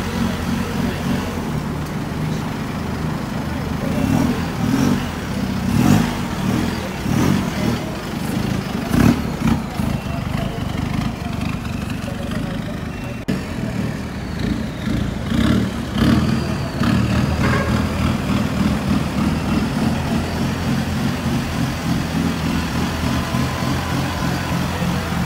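A Honda Civic engine rumbles steadily with repeated revs rising and falling, loud and close, at a night car meet, with no one speaking.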